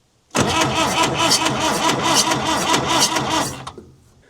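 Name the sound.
diesel engine cranking and starting, CAV injection pump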